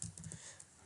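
A few quick, faint keystrokes tapped on a computer keyboard, a short soft clatter that trails off into near silence.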